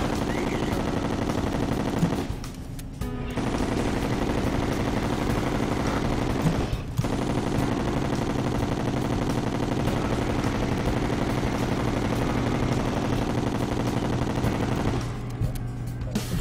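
Sustained rapid gunfire from the player's weapon in the Terraria video game, a dense continuous stream of shots with two short pauses near the start and another just before the end, loud and with no talk over it.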